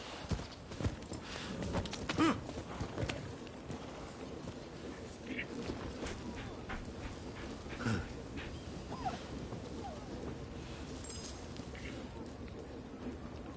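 Dogs in the game Rise of the Ronin whimper and yip faintly in the distance, mixed with footsteps and ambient noise, while a person talks over the scene.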